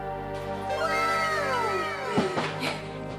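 A cat meows in a long, drawn-out rising and falling cry, followed by a couple of shorter sharp meows, close and fairly loud.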